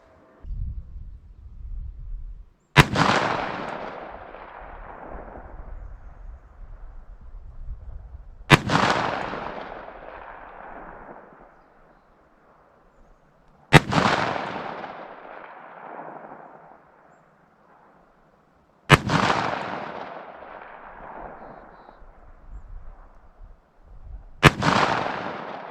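Five loud, sharp gunshots firing Underwood Superior High Performance ammunition at a target, spaced several seconds apart, each crack trailing into a long echoing decay, with no talk.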